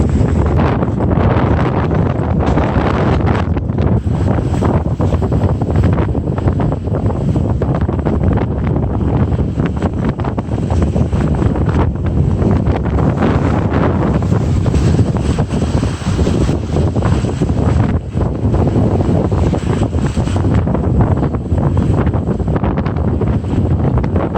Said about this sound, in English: I think that's those 30 knot gusts or so, or even more.